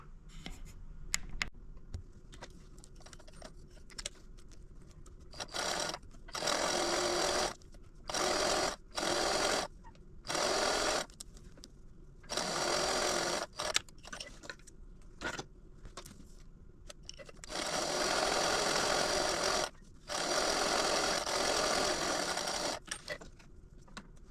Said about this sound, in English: I'm going to now top stitch down both sides of this stripe.